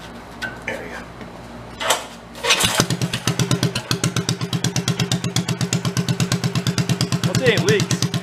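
The engine of an old amusement park ride idles with a leaking muffler, chugging in a fast, even pulse after it catches, loud and close, with a voice and clanks before it settles.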